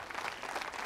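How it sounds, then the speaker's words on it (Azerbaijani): Audience applause at a televised game show, a brief dense burst of many hands clapping at a moderate level with no speech over it. "Dostlar, alqışlayaq"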